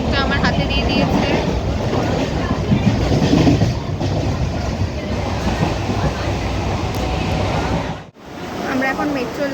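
A Kolkata metro train runs along its line, a loud rumbling roar with rattling wheels and carriage noise heard from inside, with chatter underneath and a brief dip near the end.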